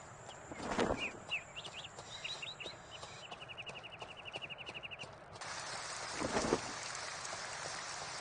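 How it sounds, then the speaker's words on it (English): Steady rain falls in the video game Two Worlds as an even wash of noise throughout, with brief bird chirps early on and a couple of louder thumps. "Rain again."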